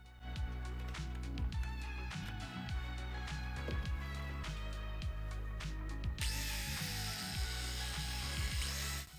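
An electric drill powered by a converted Soviet charger whirs in repeated short bursts with clicks between them, then runs into a steadier, brighter high whine near the end.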